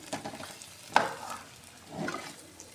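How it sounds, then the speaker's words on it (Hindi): Moringa leaves being stirred and roasted over a medium flame in a pan, with faint soft scraping and a low sizzle, one brief louder stir near the start and a gentle swell later. "मीडियम फ्लेम पे इसकी अच्छे से भुनाई करते रहना है"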